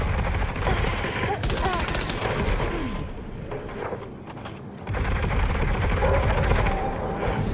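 Gunfire in the video game Death Stranding 2: dense bursts of automatic fire and shots, loud and close, with a brief lull in the middle before the shooting resumes, mixed with game sounds and background activity.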